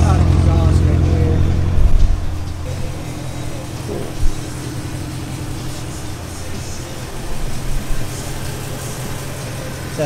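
BMW E92 M3 on a lift, its engine idling through a loud catless exhaust as a steady, deep droning rumble with a brief louder surge, while a voice talks over it.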